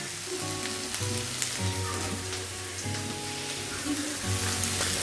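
Vegetables frying for homemade chow mein sizzle loudly and continuously close by for several seconds, with a faint steady hum running underneath.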